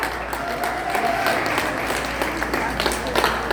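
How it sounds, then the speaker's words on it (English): Applause for a man from the audience at a ward council candidate's campaign launch in Scarborough Rouge Park, a steady dense clapping crowd sustained throughout at moderate loudness, with a faint voice beneath. "let's give this man a round of applause"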